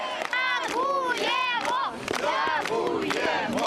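A large crowd in Mykolaiv erupts in loud, sustained cheering and shouting to welcome soldiers returning home, with voices rising and falling in waves close by.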